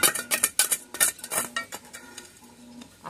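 A ceramic piece is pressed into a small hole dug in garden soil with a spoon, giving a series of close scraping, clinking knocks at irregular intervals with no talk.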